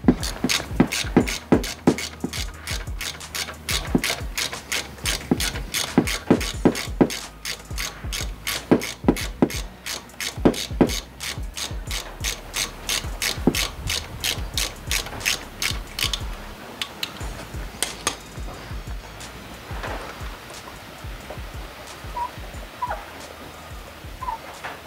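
Ratchet wrench with an Allen bit loosening the rear brake caliper guide pins on a BMW E60, a long run of rapid, loud clicking in repeated bursts that slows and thins out toward the end.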